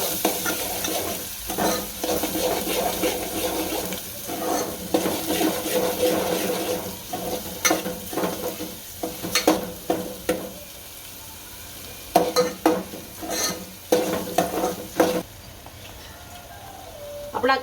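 Onions fry in a pan with asafoetida and cumin for a Gujarati vegetable dish, sizzling softly while a spoon stirs and scrapes in repeated bursts, with short quieter gaps between strokes.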